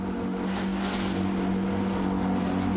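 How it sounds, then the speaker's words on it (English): Several 2017 Porsche GT3 Cup race cars with flat-six engines idle together on a racetrack's front straight after starting, making a loud, continuous, even rumbling drone that never lets up. "Love the sound of these flat 6s coming to life on the front straightaway"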